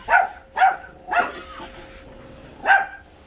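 A dog barks four times nearby, short sharp yips with a brief pause before the last one.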